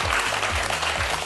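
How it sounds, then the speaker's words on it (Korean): Dense audience applause welcoming speakers at a lecture, many hands clapping continuously throughout, fairly loud and close. "오늘의 강연자 두 분 박수로 환영해 주십시오."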